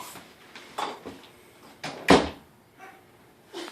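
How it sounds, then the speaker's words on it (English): A closet door being pushed shut indoors, with a few soft bumps and shuffles leading to one sharper knock as it closes, close by in a quiet room. "Close the door first."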